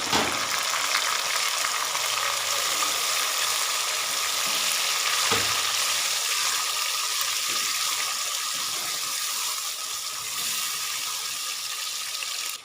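Tomatoes, two large ones, going into garlic frying in a pan for a turnip (shalgam) curry, giving a steady loud sizzle throughout with a brief stirring clatter, no voices.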